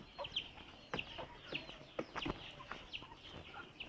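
A broody hen clucks in soft, irregular bursts at close range, mixed with scratchy rustling and a few sharp clicks, with no talk.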